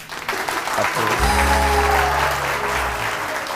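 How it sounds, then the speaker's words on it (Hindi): A television morning show's studio audience applauds a guest, a thick wash of clapping that swells with a low musical tone entering beneath it and carries on for a few seconds. "वाजिद के लिए बहुत सारी तालियां।"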